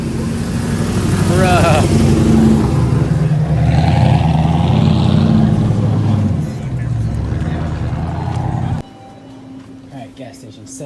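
Pontiac GTO engine rumbling loudly at a night car meet, a sustained low growl through most of the stretch with rising revs, then dropping away near the end, with voices talking over it.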